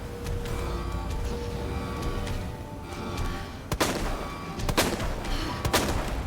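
Gunshots in the zombie survival game Resident Evil 2, a few sharp cracks in the last seconds over a steady game ambience bed, irregularly spaced and fairly close.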